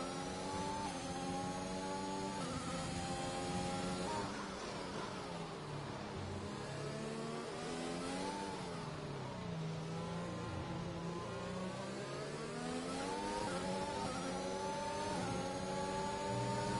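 A Formula 1 car in a racing video game pulls out of the pits at the British circuit, its engine whining and climbing through repeated gear shifts. The drone is continuous, steady and fairly loud, with no talk.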